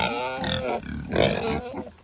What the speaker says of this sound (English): It is easy to overfeed these pigs because they always act like they're hungry.